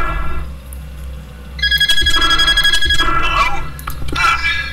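Phone ringing in the night office of a Five Nights at Freddy's fan game set in a warehouse, a loud repeating electronic ring that starts partway through over a low background hum, with brief speech mixed in.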